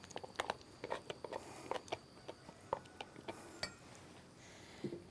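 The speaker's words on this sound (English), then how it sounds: "And we're going to mix that up." Cheddar cheese and mayonnaise are stirred together in a bowl, a utensil clinking and scraping against the dish in a loose, irregular rhythm, quiet and close.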